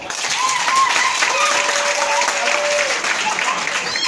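Loud, dense applause from a live audience at a Cameroonian comedy show, sustained throughout with steady clapping and a few raised voices and whistles carrying over it.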